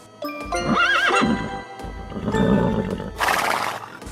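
A horse neighs with a rising and falling whinny while being bathed at an equestrian club, followed by a second, rougher call and a burst of hissing noise, all close and loud.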